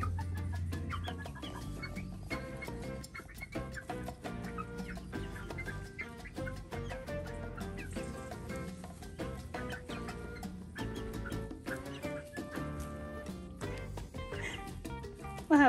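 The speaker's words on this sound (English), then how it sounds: "the chickens are super happy outside." Chickens cluck and chatter over a busy, steady background, the clucks soft and overlapping throughout.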